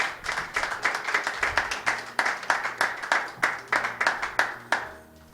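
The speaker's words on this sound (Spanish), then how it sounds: "¿Cuánto pueden dar un aplauso a Cristo?" A church congregation gives a steady, fairly close round of hand clapping for Christ, irregular and dense for several seconds before tapering off, with no voices standing out.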